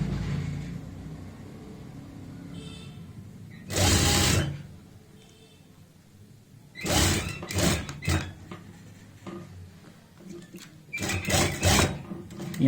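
A sewing machine stitches the side seam of palazzo pants in short separate bursts, one near four seconds and clustered runs later, between quieter stretches of handling noise, with a voice speaking at times.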